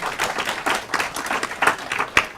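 Audience applause for the AM 560 Salem Radio Network station at a talk, a steady patter of individual claps with one sharp loud clap near the end, close and continuous for a few seconds.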